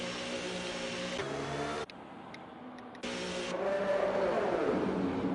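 A race car's engine drones steadily as it enters the pit lane at the Saudi Arabian GP in a racing game, cutting out briefly before the loud, even drone resumes.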